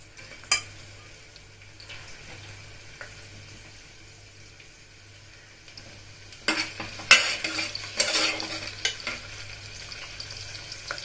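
Chopped onion hitting two spoons of hot oil in a pan for a mutton rassa, first a quiet low hum with a single clink, then a louder crackling sizzle with scraping stirs in the last few seconds.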